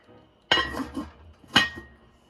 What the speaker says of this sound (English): carefully drop it in your pan, throw the lid on top